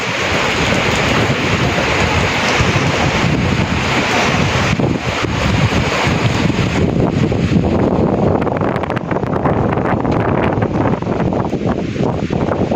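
Loud, continuous typhoon wind roars and buffets the microphone for the whole stretch, with a surf-like rushing wash and gusting bursts throughout.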